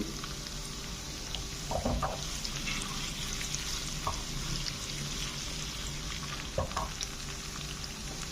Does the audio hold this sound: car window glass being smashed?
no